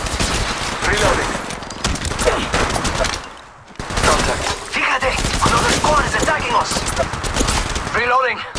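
Gunfire in Apex Legends, played on an iPad: rapid bursts of automatic shots rattle close and loud, pausing briefly midway before resuming, with sharp clicks and a rising weapon whine near the end.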